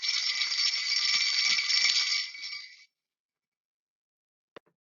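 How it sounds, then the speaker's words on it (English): Small bells jingling steadily and fairly close for nearly three seconds, then silence, with one brief faint click near the end. "It's jingling bells."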